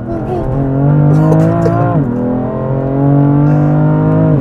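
A BMW M3 F80 CS sports car driven hard at sunset, its engine revving loudly through gear changes with a rising and falling howl and some tyre noise, close and dominant.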